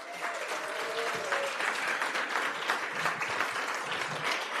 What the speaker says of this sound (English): Let's give Lynwood a big round of applause.